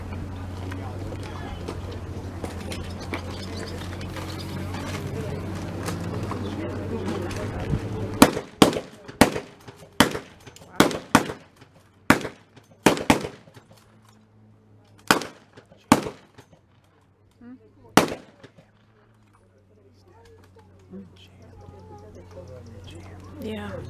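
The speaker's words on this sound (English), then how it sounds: "We're going to be able to fire a lot faster than they are." Rifles fire at a historical battle reenactment in a rapid string of sharp, loud cracks, some in quick pairs, after a stretch of steady engine rumble and talk, then quieter voices.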